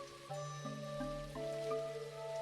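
Rain falls in the farming video game Dinkum, a soft steady patter running beneath gentle tonal game music, with no speech.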